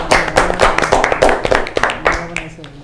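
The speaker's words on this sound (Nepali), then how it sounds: "एकचोटि प्रदीपलाई ताली बजाऊ" A small audience claps for Pradeep, distinct sharp claps in an uneven rhythm that thins out toward the end, with people talking over it.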